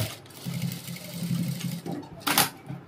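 A sewing machine stitches a cap dress along a marked seam in a steady, close-up whir that runs almost throughout, with a brief sharper burst near the end and faint background sounds.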